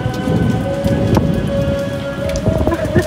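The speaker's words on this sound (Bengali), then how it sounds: "আল্লাহ জোরে বৃষ্টি নামছে," Heavy rain drums on an open rooftop during a thunderstorm, a loud, steady downpour with a deep rumble of thunder running beneath it.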